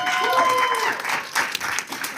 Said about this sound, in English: big round of applause for the entire team